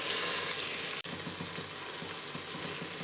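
Tomatoes frying in a pan for crab biryani send up a continuous close sizzle, with a short gap early on and soft, regular stirring scrapes running beneath the hiss.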